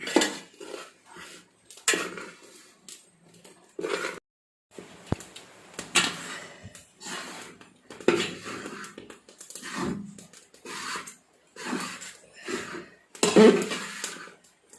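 Flour roasts in a large uruli pan over a low flame as a utensil stirs and scrapes it, making repeated loud metallic scrapes and knocks in uneven bursts.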